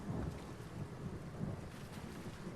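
Steady rain with a low, rolling thunder rumble in a rainy outdoor setting in The Elder Scrolls Online, continuous and moderately quiet with no voices.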